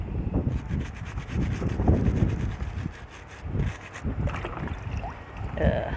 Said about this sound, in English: I'm gonna give it a good scrub, don't be afraid of it.